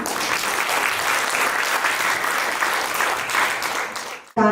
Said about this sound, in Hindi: उपस्थित आर्यजनों से निवेदन है कि एक बार फिर से प्रधान जी के लिए तालियां बजा दीजिए।